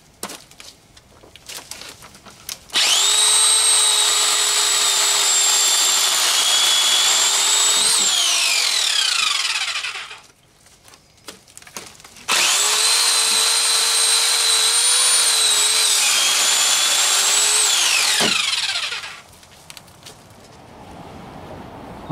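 A Harbor Freight pole saw trims tree branches outdoors in two sustained bursts of loud, high-pitched motor whine, each lasting about five to six seconds, separated by a short pause and followed by quieter rustling.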